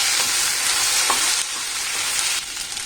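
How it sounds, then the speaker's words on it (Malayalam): Okra thoran is stirred in a frying pan on a low flame, a dense, close sizzle with soft scraping mixes that eases slightly in loudness partway through. "നന്നായിട്ടൊന്ന് മിക്സ് ചെയ്ത് കൊടുക്കാം"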